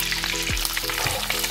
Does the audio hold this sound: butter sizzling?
yes